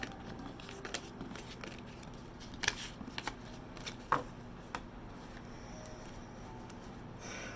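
Soft riffling and flicking of a deck of advice cards being shuffled for a reading, with scattered crisp snaps and slaps among quiet papery rustling, close and fairly faint.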